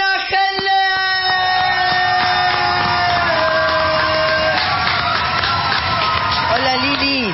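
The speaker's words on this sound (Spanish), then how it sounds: "Pero qué aplauso maravilloso" A studio audience gives a stage guest a loud, sustained burst of applause mixed with cheering and whoops, steady throughout with some tonal sound underneath.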